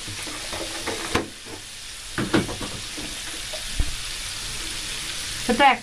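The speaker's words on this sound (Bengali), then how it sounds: "এটা ভালোভাবে মশলাটা কষিয়ে নিতে হবে" Ground spices with a spoonful of cumin powder fry in a pan over medium heat, a continuous close sizzle broken by scraping stirs and occasional clinks of the spoon, with no voices.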